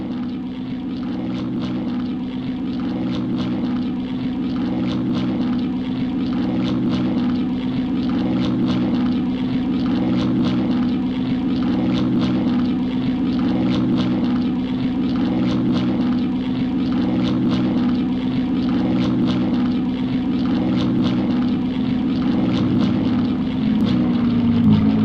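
A propeller-driven fighter plane's engine drones steadily and loudly while climbing in a World War II air combat video game, with a constant rhythmic throb and no speech.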